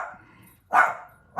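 A dog gives a single loud, close bark after a softer whine-like sound, then begins another at the very end.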